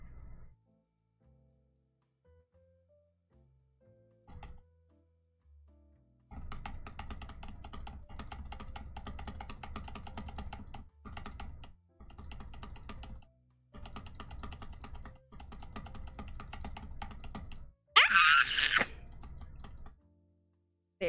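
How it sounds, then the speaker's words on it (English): Intense, rapid clicking on a computer keyboard or mouse: dense, fast bursts of clicks in long runs broken by short pauses, loud and close, with a sharp exclamation near the end. "It only took me some intense clicking."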